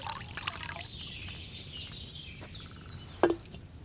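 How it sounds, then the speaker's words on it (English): Wine pours from a pitcher into a cauldron in the Kingdom Come: Deliverance II video game, a soft trickling stream over quiet background ambience, ending in a brief splash. "what did you pour in there? Wine, of course."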